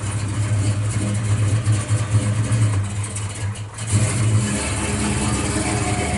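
A 1970 Dodge Dart Swinger with a 383 V8 revving, a loud, close, throaty rumble that holds steady, dips briefly, then surges back up, with no voices over it.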